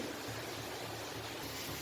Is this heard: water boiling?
yes